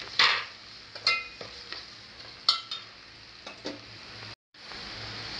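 Pieces of mutton are stirred into garlic paste in a hot pan with soft sizzling, several sharp scraping clinks of a spoon against the pan at uneven intervals, close and fairly quiet.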